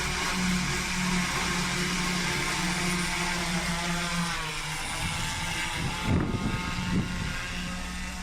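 An Aero Taxi prototype drone, a large multirotor craft, gives a steady loud whirring drone of rotors, with a low hum underneath and brief rougher bursts near the end as it comes down over snow.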